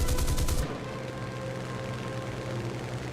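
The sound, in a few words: aircraft gunfire, long-range shots in a video game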